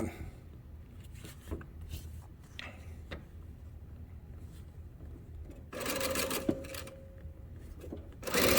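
A sewing machine chain-pieces quilt fabric blocks, running in a loud, steady mechanical burst, pausing, then starting again near the end.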